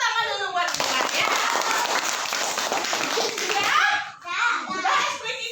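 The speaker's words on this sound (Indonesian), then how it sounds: "ya udah, ayo kasih tepuk tangan dulu buat Indra ya." A group of children claps in applause for a classmate named Indra in a classroom, a dense burst of hand claps lasting a few seconds, with children's voices before and after.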